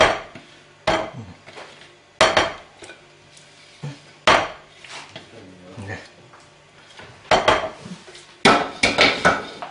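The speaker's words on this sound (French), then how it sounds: "Je gratte tout, il ne faut rien laisser" Scraping harissa ingredients out of a container, with repeated sharp clatters and knocks of utensil against the vessel in irregular bursts, close and fairly loud, plus softer scraping between.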